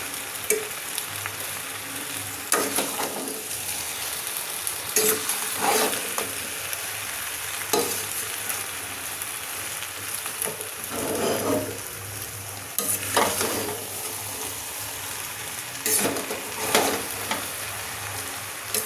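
Sabudana pulao with vegetables and spices is stirred in a sizzling pan, a continuous close frying hiss punctuated by repeated scraping strokes of the spoon.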